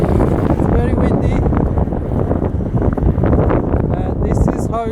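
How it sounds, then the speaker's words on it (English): Strong blizzard wind during a Montreal snowstorm beside a highway, a loud continuous roar buffeting the microphone with gusty rumble throughout, with faint speech under it. "It's very windy."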